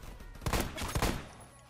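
Rapid bursts of SCAR SSR rifle fire in the online shooter Phantom Forces, a few loud cracks in quick succession close to the listener, then tailing off with no talk.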